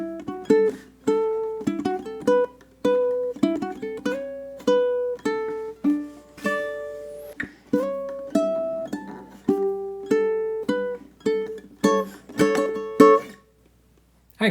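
A country riff picked on ukulele, bright plucked notes and quick triplet runs in a bouncy repeating pattern, clear and close with no talking, ending in a brief pause.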